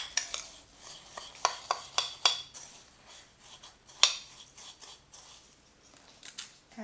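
Coated food is tossed with olive oil in a dish, giving a run of quick, close clinks and scrapes of a utensil against the container, then a few scattered stirring knocks.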